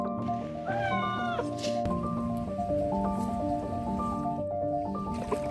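Domestic cats give a single rising meow up close while steady rain patters and a continuous background hum fill the room.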